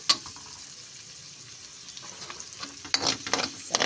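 Garlic and ginger sauté in butter with a soft, steady sizzle, growing louder near the end with stirring scrapes and crackling bursts.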